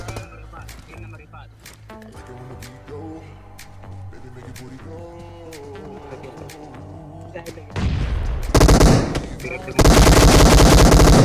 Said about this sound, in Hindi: वहाँ से कुछ फायरिंग शॉट्स आते हैं।